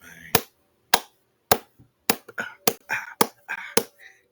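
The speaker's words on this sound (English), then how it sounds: "can we get a soul clap, man?" A slow, deliberate soul clap: sharp single claps land roughly every half second, at first with quiet gaps and then with voices talking between them.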